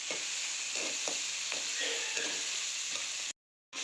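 Onions for an anchovy dry fish thokku sautéing in a pan: a steady bright sizzle with soft scraping stirs at irregular intervals, close and moderately loud, ending in a brief cut to silence.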